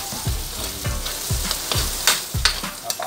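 Shrimp paste and ground meat with onions frying in a pan, a steady loud sizzle with rhythmic scraping strokes of a spoon stirring through it.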